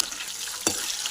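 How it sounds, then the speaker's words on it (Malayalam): Cooked beef drops into hot coconut oil and sizzles steadily, then bursts into a sudden loud hiss as it hits the pan, with no voices. "നമുക്കതിലേക്ക് വേവിച്ച് വെച്ചിരിക്കുന്ന ബീഫ് ഇട്ട് കൊടുക്കാം."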